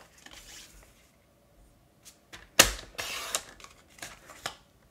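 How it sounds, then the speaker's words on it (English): Paper trimmer slicing a cardstock sheet into quarters at a craft table: a sharp, loud cutting swipe followed by several shorter scraping and sliding strokes, with no voices. "I'm just gonna cut this into 4 quarters."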